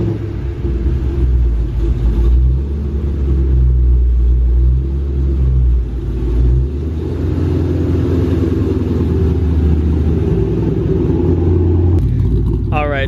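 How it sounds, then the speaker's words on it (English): Car engine with aftermarket Hot Rod camshafts running at idle: a loud, close, deep rumbling lope that swells and dips in steady pulses, with a voice starting to speak at the end. "Alright, so now we have the car running."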